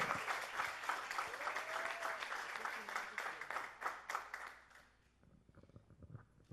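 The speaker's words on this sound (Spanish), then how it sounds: "Aplauda el nombre del Señor." Church congregation applauding during a Spanish-language Easter resurrection sermon; a dense burst of clapping with voices mixed in, fading out toward the end as a single voice carries on.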